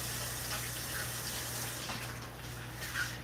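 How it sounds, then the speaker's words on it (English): Tap water runs steadily while tomatoes are rinsed, a continuous splashing gush with a low hum underneath and a few small knocks. "I'm just gonna rinse off my tomatoes."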